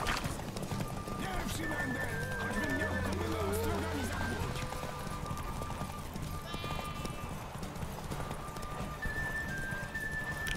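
A horse gallops in The Witcher 3 video game, with steady clip-clop hoofbeats running throughout, a neigh early on, and game music and ambient sound layered underneath.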